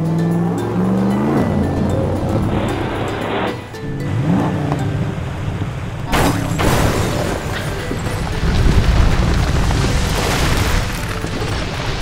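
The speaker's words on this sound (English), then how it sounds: "What a crash! The red truck knocked down almost 100 blocks in one try." A red toy truck rams a stack of nearly 100 blocks under a loud, engine-like whoosh, then a sudden clattering crash, followed by a long noisy roar.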